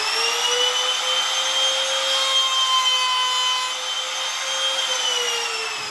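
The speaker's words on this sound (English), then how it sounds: "I put the router on, I turn the router on, and I'm going to make noise now for a second." A wood router runs at steady high speed, cutting a hinge recess into a wooden shutter panel; a continuous loud whine with sustained tonal hum holds for six seconds, close and alone with no talking.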